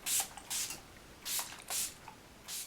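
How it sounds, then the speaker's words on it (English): Five short hissing bursts of a makeup setting spray mist onto a face in quick succession, close by and fairly soft, with brief pauses between them. "I'll spray this on my face"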